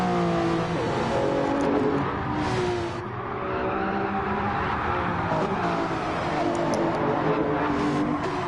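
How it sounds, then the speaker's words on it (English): Race cars lap the Fuji circuit in a PS4 racing game, engines droning and revving continuously at high pitch with shifting tones as cars close on one another, loud and steady without commentary. "Awesome battle between Chuck and Ice Chand in these closing stages from Fuji"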